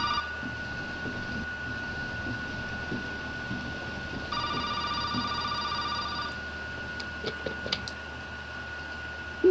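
An old-style telephone rings inside Resident Evil 7 played in VR, a steady electronic ring tone holding through low background ambience with a short louder warble midway, fairly faint overall.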